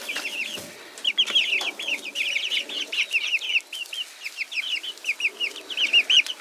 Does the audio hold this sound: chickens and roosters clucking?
yes